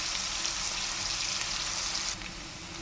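Onions with salt sizzle and fry in a pan, a steady close hiss that drops slightly in level as a lid goes on near the end.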